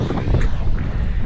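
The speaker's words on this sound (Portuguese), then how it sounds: "ventando muito." Strong wind buffets the microphone with a constant low roar and gusty rumbling throughout.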